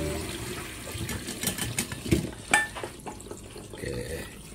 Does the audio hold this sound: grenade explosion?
no